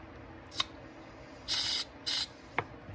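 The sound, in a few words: spraying carburetor cleaner on ATV carburetor jets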